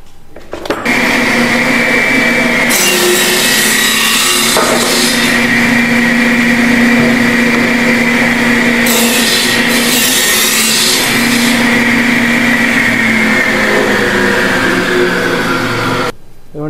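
A machine runs steadily for about sixteen seconds, trimming a bamboo cricket bat handle to length, with a loud continuous whirring drone that starts and stops abruptly and rises into brighter cutting bursts partway through.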